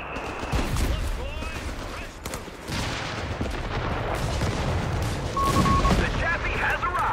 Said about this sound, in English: First AT gun shot whiffs.